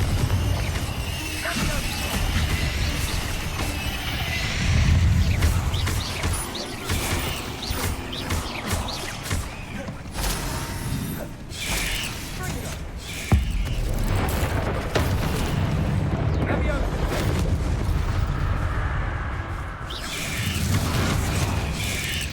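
Hogwarts Legacy combat in which the Confringo fire spell explodes among Accio, Glacius and Protego casts, a dense, loud, continuous roar of booms, crashes and mechanical clatter with brief shouted voices.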